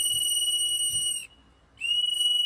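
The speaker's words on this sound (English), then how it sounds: "Why are you blowing your whistle, sir?" A protester blows a shrill whistle in two long steady blasts separated by a short pause, loud and close.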